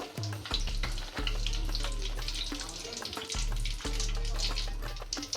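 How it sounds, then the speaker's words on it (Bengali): Egg and cauliflower chops coated in gram-flour batter fry in hot oil, sizzling loudly and continuously up close, with a few soft kitchen clatters. "এই পর্যায়ে ভেজে নেব এক পিস এক পিস করে দিয়ে দেব"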